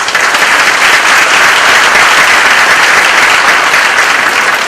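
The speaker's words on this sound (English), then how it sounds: "Let's give him a round of applause." Loud, sustained audience applause fills a change of command ceremony for the Louisville District of the US Army Corps of Engineers, dense and even throughout with no voices over it.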